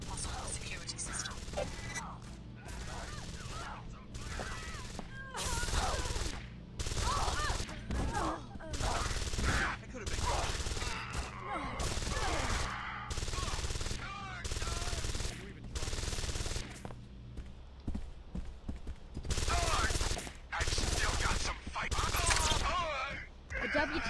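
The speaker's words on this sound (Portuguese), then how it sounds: "Que tiroteio incrível." Rapid bursts of gunfire crack repeatedly during a shootout in Deus Ex: Invisible War, loud and close in dense clusters over a steady low game hum, with a voice speaking at times.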